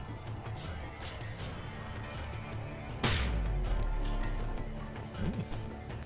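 A gunshot fired by an enemy in the 2016 PC game SteamWorld Heist, a single sharp crack with a deep boom that lingers over a busy background of game music and effects.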